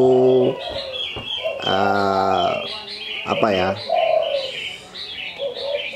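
A spotted dove (tekukur) gives a few harmonic coos and chirps in separate bursts across several seconds, close and clear against a quiet background.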